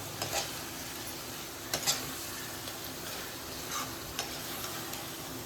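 Mutton gravy with finely chopped coriander stirred in a hot pan, producing a steady sizzle broken by a few sharp spoon scrapes and clicks.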